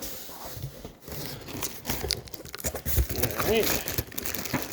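Crinkly plastic packaging being pulled and torn off a book just taken from a cardboard box, close and fairly loud, with a person speaking briefly over the rustling.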